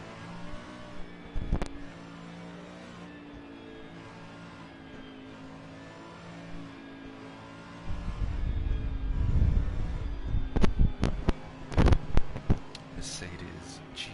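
A Ferrari GT3 race car in a sim racing game at the Nürburgring, its engine droning at a steady pitch, then rough revving bursts and sharp engine stabs as it weaves to warm the front tyres.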